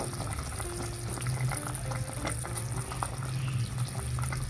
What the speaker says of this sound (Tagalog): Tapos pakuluin lang natin mga 5 minutes.